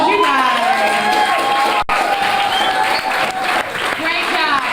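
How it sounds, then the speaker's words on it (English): A school audience applauds students after the CMS play in 2000. Sustained clapping fills the room, with cheering and whoops mixed in and voices calling out over the crowd. "Give them one more round of applause, you guys."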